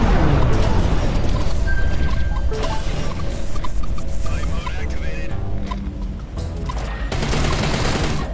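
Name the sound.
missile explosion in the video game Everspace 2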